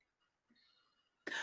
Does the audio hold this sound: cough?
yes